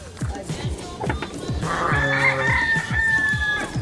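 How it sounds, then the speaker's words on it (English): A peacock calls at a farm visited with llamas, a loud drawn-out nasal cry sustained through the second half of the clip, with other bird clucks and crowing-like sounds mixed in and a voice briefly talking over it. "You have a peacock. I never knew you had a peacock."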